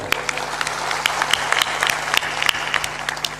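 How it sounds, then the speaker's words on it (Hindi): An audience at a Hindi religious discourse (satsang) claps steadily throughout, with many overlapping hand claps forming continuous, moderately loud applause and no clear voice over it. "थोड़ा जोरदार ताली बजाया करो, इतना मरे मराए क्यों हो।"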